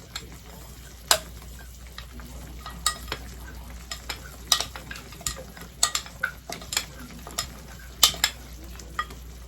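Strawberry topping syrup simmers in a pan under a quiet bubbling hiss, with frequent sharp clicks and taps of a utensil against the pan.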